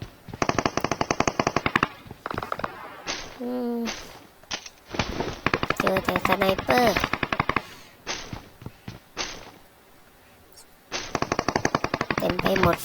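Automatic gunfire in the PUBG Mobile video game: loud, rapid bursts of machine-gun shots in several volleys separated by short pauses, close and dominant, with brief game sounds between.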